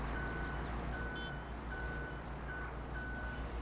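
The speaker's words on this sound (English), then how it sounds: "Don't know why I'm beeping the horn." A farm truck in Farming Simulator 22 gives off a repeating electronic reversing beep, evenly spaced tones over a steady low engine rumble, with no talk.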